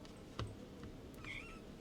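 A pet kitten gives a short, faint meow with a rising tonal cry, heard close by in a quiet indoor room with no talking.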